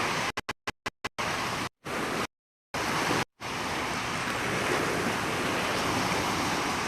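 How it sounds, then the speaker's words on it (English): Lake waves washing onto the shore at Chicago's Montrose Beach, a continuous broadband surf roar, preceded by several sharp cutouts and brief gaps before the steady wash settles in. "you hear the waves hitting against"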